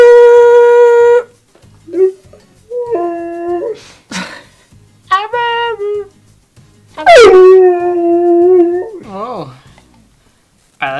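A husky dog howls in long rising and falling wails, several drawn-out howls in a row with brief pauses, loud and close, with whimpering yips between them.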